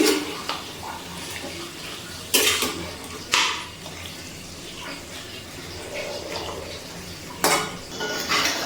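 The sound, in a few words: chicken being stirred in a pan on medium flame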